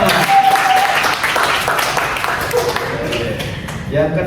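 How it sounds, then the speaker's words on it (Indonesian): Scattered applause from a group, moderately loud, with voices chattering over the clapping. "Boleh kasih tepuk tangan teman-teman"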